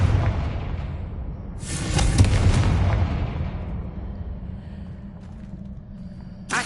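A Confringo fire-blast spell going off in Hogwarts Legacy on PS5, a deep rumbling boom that swells into a bright crackling burst and then fades into a long low roll, with a sharp crack at the very end.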